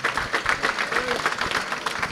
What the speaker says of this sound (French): Applaudissements à nos chères braves dames.